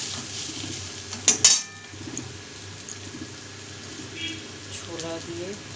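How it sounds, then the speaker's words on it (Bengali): Spices fry in a pan for kochu shak with hilsa head while a utensil stirs them, giving quiet metallic clinks and one sharper clatter early on. A soft voice murmurs faintly underneath. "মশলাটা আমার ভাজা হয়ে এসেছে।"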